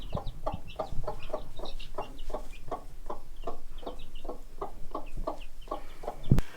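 A broody hen guarding her chicks clucks steadily in a rapid, even series of short calls, close by, with faint background birds and a sharp knock near the end.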